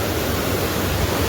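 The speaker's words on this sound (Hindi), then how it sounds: "बहुत ही तीव्र वेग से मार्कंडे नदी जो है बहुत ही तीव्र वेग से बह रही है" Markande River rushing very fast along a mountain trail, a steady, dense roar of water with no pauses and no talking.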